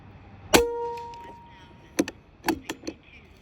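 A .177 Artemis P12 air rifle shooting Nielsen 21 grain slugs: a sharp metallic clang rings out near the start with a lingering tone, followed by several fainter knocks and clicks.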